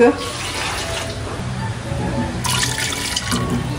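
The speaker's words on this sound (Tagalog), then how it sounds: "Ito po ay lalagyan lang po natin ng tubig." Water poured from a tap or jug into a cooking pot holding raw chicken feet, a steady splashing pour that runs throughout and swells louder toward the end.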